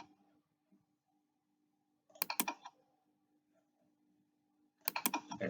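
Two quick clusters of close computer mouse clicks, a few sharp taps each, separated by quiet with a faint background hum.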